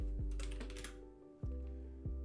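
Quiet keystrokes tap on a computer keyboard during a Google search, a quick flurry of soft clicks followed by a few single, spaced key presses close to the microphone.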